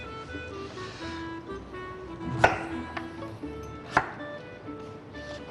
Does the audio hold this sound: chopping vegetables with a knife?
yes